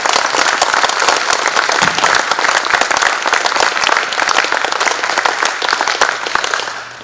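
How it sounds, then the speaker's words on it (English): A sustained round of audience applause at an air museum event following a Korean War speech, dense steady clapping from a sizable crowd close and loud for about seven seconds, tapering slightly at the end. "Can we give Mac a round of applause?"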